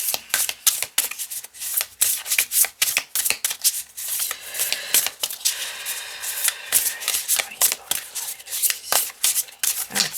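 A deck of tarot cards is shuffled by hand in a quiet room, with rapid, uneven riffling and rubbing bursts running almost continuously and close by.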